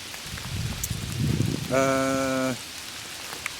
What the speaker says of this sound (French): Il pleut tellement qu'en fait on hésite à reprendre le tunnel